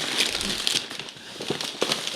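Gift wrapping paper being torn and crumpled during unwrapping, with close, irregular crinkles and sharp rustling bursts over a couple of seconds.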